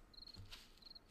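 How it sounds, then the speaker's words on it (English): Crickets chirp at night in the survival game 7 Days to Die, two faint high trills repeating over a low ambient hum with no voices. "And crickets started going."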